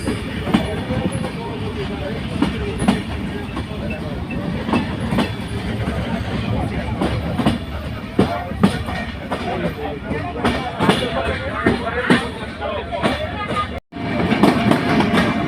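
The Kapotaksha Express rumbles past near the Bheramara Farakpur rail gate, with loud rhythmic clickety-clack of wagons over the rails continuing throughout and brief voices in the background.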